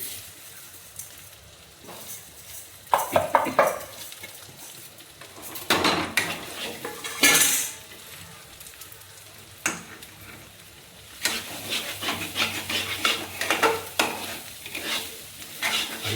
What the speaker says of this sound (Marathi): थोडंसं मूग डाळ घालायचं ह्याच्यामध्ये.